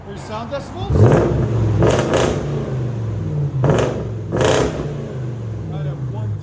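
Close-up exhaust of a muffler-delete 2007 Jaguar XK-R, supercharged 4.2-litre V8, giving a few sharp throttle blips that rise above a steady rumbling idle, while a person speaks between the revs.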